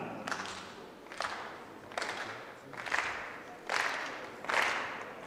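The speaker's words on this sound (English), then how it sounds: "the crowd getting involved, starting to clap" Crowd at a badminton final of the 2014 French International, heard as five evenly spaced swells of rhythmic clapping from the stands, fairly distant and soft, with no talk over it.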